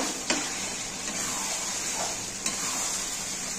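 Chicken liver with garam masala is stirred in a pan, a soft steady sizzle with a couple of brief utensil knocks against the metal.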